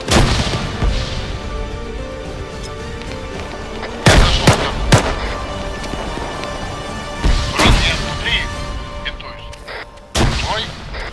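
Grenade blasts and gunfire in Arma 3 combat, with three heavy booms at roughly four, seven and a half and ten seconds over a steady crackle of distant shots, and faint voices in the background.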